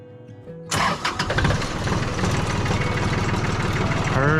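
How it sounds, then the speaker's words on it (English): A tractor engine cranks and catches after a short quiet moment, then settles into a loud, steady idle close by as it warms up. "Let me get the tractor warming up here real quick."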